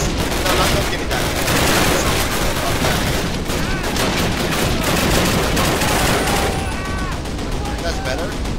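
Continuous loud gunfire in Call of Duty's WWII Normandy mission around Ste. Mere-Eglise, rapid machine-gun bursts and single shots layered over each other, with voices talking over the shooting.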